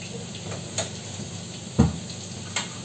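Fried potatoes dropped into a pot of Kashmiri mutton rogan josh, giving a steady low sizzle of frying with a few soft clinks and stirring knocks spaced across the short stretch.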